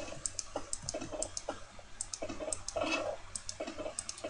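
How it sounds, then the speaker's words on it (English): Minecraft ladders being placed, a series of soft, quick wooden clicks and taps in irregular bursts, close and fairly quiet with no talking. "So now ladders, if you place them, they sound like this."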